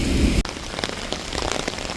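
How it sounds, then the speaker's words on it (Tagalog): Heavy rain pours and drums steadily on a surface nearby, a dense continuous wash with no voices. "Grabe, lakas ng ulan, bumuhos."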